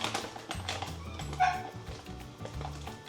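Dog barking outdoors, repeated short yips and barks with whimpers, moderately distant, mixed with low background rumble.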